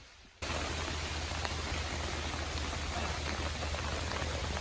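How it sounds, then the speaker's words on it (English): Rain beginning to fall outdoors in the wilderness: after a brief quiet moment, a sudden steady wash of dense patter and hiss starts and continues evenly, close and fairly loud, with no talking. "So it's starting to rain"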